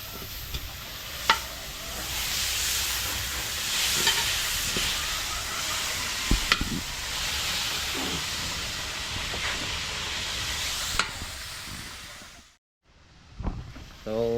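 Onion and garlic fry in hot margarine with a bright, continuous sizzle, broken by a few stirring clinks and scrapes, close up, before the sound cuts out briefly near the end.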